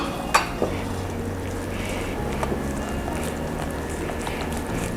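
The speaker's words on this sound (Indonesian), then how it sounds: "Kemudian kita akan campurin si bubur ketan tadi, guys. Kita sedikit dulu, kita lihat. Kita aduk rata seperti ini." Glutinous rice porridge being stirred into a kimchi paste in a bowl produces a soft, continuous scraping and mixing sound, with a couple of sharp utensil clinks early on, fairly close under a low background hum.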